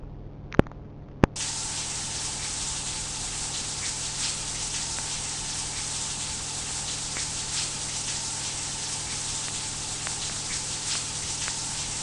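Steady rush of running water rinsing something off, a continuous close spray that starts after two sharp clicks and holds evenly to the end.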